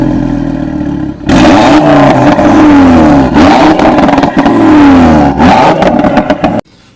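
2017–2018 Audi RS3 with a 2.5-litre turbocharged five-cylinder engine, idling briefly before a series of loud, close blips and sustained revs rising and falling, then cutting off abruptly.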